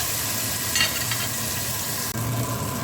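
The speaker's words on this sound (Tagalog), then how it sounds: "Then halo-haloin lang natin ulit hanggat sa lumambot yung ating kamatis." Tomatoes sautéing in a pan while being stirred for ginisang monggo, a steady close sizzle with occasional scraping and stirring sounds throughout.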